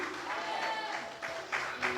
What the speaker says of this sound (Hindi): ताली बजाओ जोर से, जोर से, जोर से